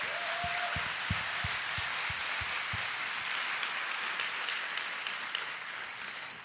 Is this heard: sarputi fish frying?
no